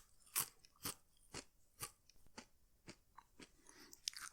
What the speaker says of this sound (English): Can you hear me crunching them?